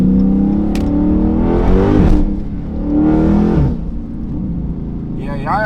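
A Dodge Challenger Scat Pack with the 392 V8 revs hard twice in close succession, each rise and fall loud and near, with voices talking over a steady low rumble between the pulls.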